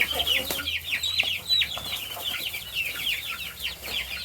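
A mixed flock of chickens clucks steadily at close range, with many overlapping short, squawky calls in a busy, continuous chorus and a faint low hum underneath.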